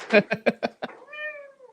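A cat meowing close by, a quick series of five short chirping meows followed by one longer drawn-out meow, heard clearly on its own.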